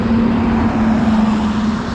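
Slow-moving traffic on the Bharuch national highway in the afternoon, a steady close engine drone and roadway rumble with a constant low hum, loud and continuous, no talk.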